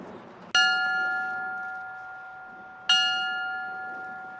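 A single memorial bell in Moore, Oklahoma rings out for tornado victims and decays slowly, then strikes a second time a couple of seconds later, clear and resonant against a quiet background.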